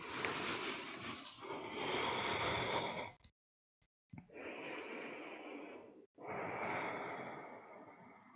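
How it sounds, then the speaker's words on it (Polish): Slow, deep breaths during a morning yoga session, heard as long breathy inhales and exhales separated by short silent pauses, close and fairly quiet with no talking. "Zróbcie kilka głębszych oddechów."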